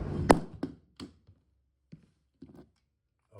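A Canik TP9 Elite Combat pistol falls from overhead onto the ground, one sharp close impact followed by several smaller bouncing clatters that fade into quiet.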